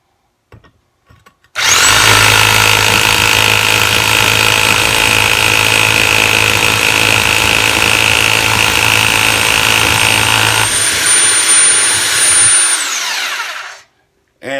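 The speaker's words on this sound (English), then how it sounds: "So I'm going to drill into the side of it so it goes in the entire depth of the drill itself." A portable Topshak rotary hammer drill bores into brick, starting abruptly and running loud and steady at full speed for about nine seconds before its pitch shifts slightly, then it spins down and stops.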